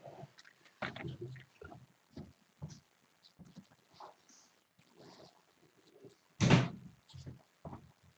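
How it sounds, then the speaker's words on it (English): A closet door is pushed shut indoors with one sharp, fairly loud knock partway through, set among faint shuffling and small handling noises in a quiet room. "I can't take the background off unless I close my closet door"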